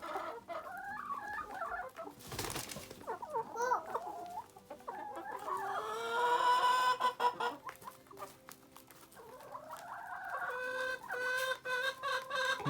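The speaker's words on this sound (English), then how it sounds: "Those are chickens." Chickens eating hay outdoors cluck steadily and close by, a busy overlapping flock chatter that swells and fades across the whole stretch with no one speaking.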